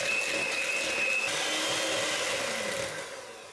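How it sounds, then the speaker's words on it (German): An electric mixer beating soft butter with sugar for cake batter whirs steadily and loudly, a continuous motor drone that shifts pitch slightly partway through and then eases off at the end, with no talking. "Erstmal nehmen wir den weichen Butter und werden mit dem Zucker kräftig aufschlagen"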